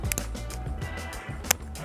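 Tamper-evident seal on a PET cap snapping as an unopened PET bottle is twisted open: a brief close sequence of small plastic clicks and cracks, with one sharp snap near the end.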